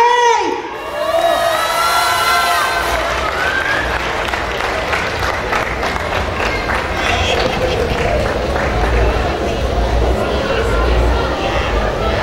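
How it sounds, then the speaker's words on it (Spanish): At a 2022 queen coronation at the Feria Taxadhó, a crowd breaks into loud applause and cheering for the second princess Litzey, with shouts and whistles rising over sustained clapping and a voice briefly heard at the start. "¡Fuerte el aplauso para Litzey!"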